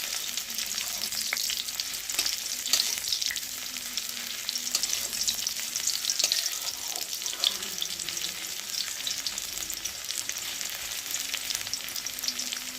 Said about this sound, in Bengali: তো যাই হোক আমি পেঁয়াজটা ভালো করে ভেজে নেব।